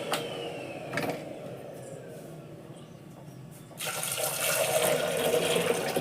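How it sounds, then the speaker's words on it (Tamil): After a few quiet seconds, water rushes steadily into a pressure cooker pot of salted jackfruit seeds, splashing continuously until the end. "தண்ணி ஊற்றிடுச்சு"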